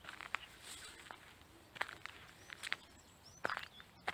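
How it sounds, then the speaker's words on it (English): Soft rustling footsteps on grass outdoors, faint and irregular, a few light brushes spread across a quiet, steady background. "But if I walk on the grass, it's a different sound, just a rustle."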